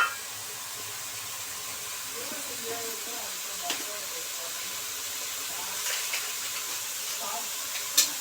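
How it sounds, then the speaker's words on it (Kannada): Ingredients frying in a pan for chicken gravy, a continuous soft sizzling hiss close by, with a few light clinks and faint voice in the background. "ಸ್ವಲ್ಪ ಮೆತ್ತಾಗಷ್ಟು ಫ್ರೈ ಮಾಡ್ಕೋಬೇಕು"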